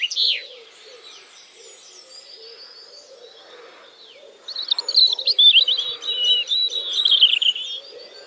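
Wild birds singing in the British countryside, faint scattered chirps and cooing at first, then louder, busier bursts of high twittering song nearby.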